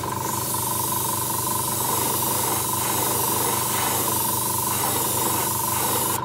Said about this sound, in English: I'm aiming the spray